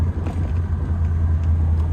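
A 1964 Corvette convertible with a manual gearbox drives along, its engine a low steady rumble heard from inside the car with light road and wind noise.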